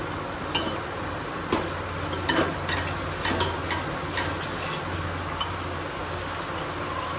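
Chopped tomato drops into onions frying in a pan, setting off a steady sizzle broken by several sharp clinks and stirring scrapes, close and fairly loud with no one talking.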